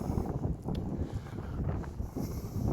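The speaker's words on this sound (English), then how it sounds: "it's windy again" Steady wind buffets the microphone outdoors at an abbey ruin in Maltby, South Yorkshire, a low rumbling roar that fluctuates throughout with no voices.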